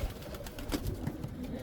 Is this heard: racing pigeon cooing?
yes